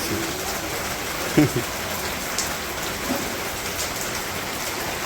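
A sudden shower falls from a clear sky, a steady spatter of raindrops on surfaces broken by a couple of short knocks and a faint voice in the background.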